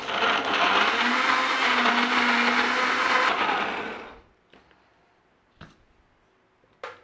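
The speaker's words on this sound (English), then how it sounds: "And then we've got to give it a blend." A blender whirs loudly, blending roasted red pepper paste with paprika and balsamic vinegar, a steady high motor drone for about four seconds that cuts off, followed by a few faint knocks and clicks.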